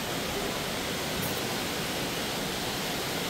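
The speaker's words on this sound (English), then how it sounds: "Little waterfalls." Small waterfalls on an outing in Branson, Missouri give off a steady, dense rushing hiss of falling water that stays even and unbroken throughout, with no voices over it.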